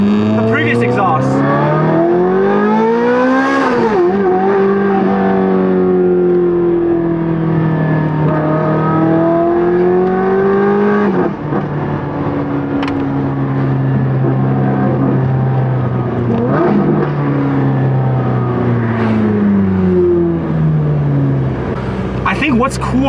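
A Ferrari 430 Scuderia with its new modified exhaust set to open revs repeatedly up and down, the engine note loud and close, rising and falling in several sweeping pulls with a rasping, sharp tone throughout.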